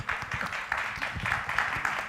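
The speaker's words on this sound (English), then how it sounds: "give him a warm round of applause" Audience applause, a dense, steady patter of many hands clapping at moderate volume, continuing throughout without pause.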